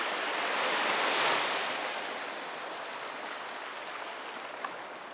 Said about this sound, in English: I can see there is very beautiful rock and water is hitting that.